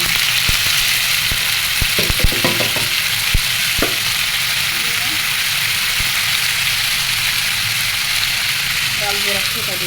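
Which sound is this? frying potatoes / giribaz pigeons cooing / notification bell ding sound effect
frying potatoes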